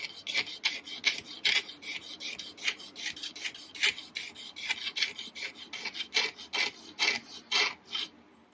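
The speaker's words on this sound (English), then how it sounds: "You hear it juddering a little bit, but it's a very fine judder" A blade scrapes along a guitar fretboard in steady back-and-forth strokes, each pass a dry rasping hiss with a fine judder, close and fairly quiet, repeating roughly every half second.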